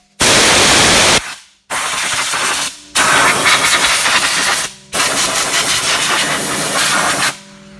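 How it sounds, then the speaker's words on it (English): Compressed air blasting out car wheel rotors during a detailing job comes as four loud, harsh hissing bursts, each lasting one to two seconds, split by short silences. "A little bit of compressed air"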